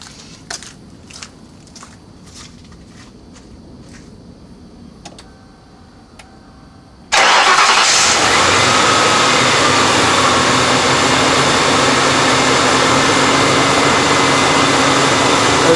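A 1995 Ford Crown Victoria engine with a newly replaced belt drive system starts up. Faint ticking and clicks come first, then a loud engine catch settles into a steady, even idle.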